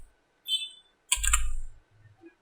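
A computer keyboard clicking on an Ubuntu Linux machine, two short bursts of keystrokes close up, the second a quick cluster of taps, in an otherwise quiet room.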